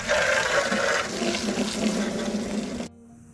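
Steady running water pours and splashes while rinsing a filthy vintage RCA toolbox, a continuous rushing flow like a tap or hose that stops abruptly near the end, leaving a faint hum.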